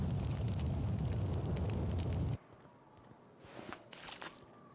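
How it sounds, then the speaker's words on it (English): An explosive barrel blows up in The Outer Worlds, a loud, dense burst with heavy low rumble lasting about two seconds before cutting off abruptly into quiet, with a few faint bursts of noise afterward. "Just shoot the explosive barrel."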